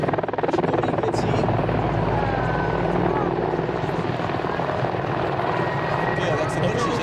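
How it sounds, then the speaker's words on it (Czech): A Mi-24 military attack helicopter circles overhead at an air event in Ivančice, its rotor producing a loud continuous thudding roar throughout, with crowd noise underneath. "tento bojový vrtulník A Mi-24 jo, on může se točit tam"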